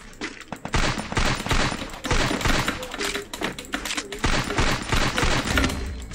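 Rapid bursts of Free Fire video game gunfire crackle loudly and almost continuously, with dense automatic volleys and short gaps between them.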